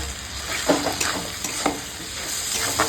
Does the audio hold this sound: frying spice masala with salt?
yes